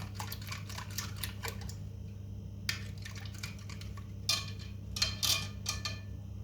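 An egg stirred into pizza dough in a mixing bowl: scattered light clicks and scrapes in short bursts, fairly faint, over a steady low hum with no talking.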